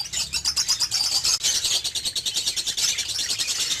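Pet budgerigars, including a fallow red-eyed female, chirp and tweet in a steady, busy stream of quick, high chatter that runs close and fairly loud throughout.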